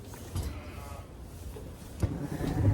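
Ewes and lambs bleat in a field, a few short calls at moderate distance over a low background rumble, with no talking.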